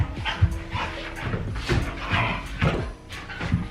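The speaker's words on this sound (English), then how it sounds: "there's just always gonna be puppies play fighting in the background now" Puppies play-fighting indoors, with repeated short yips, growls and barks in quick irregular bursts, close and fairly loud, with no talking over them.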